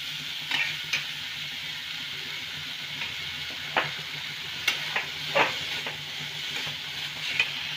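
Khoya being stirred in a pan for Bengali chandrakala sweets, a steady faint sizzle broken by scattered scraping clicks of the spoon, heard alone with no talk.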